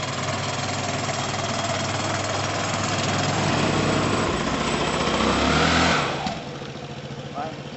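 A Piaggio Typhoon 125cc scooter engine runs nearby with a steady, buzzy idle. It swells into a rev before settling back down, and a voice talks over it.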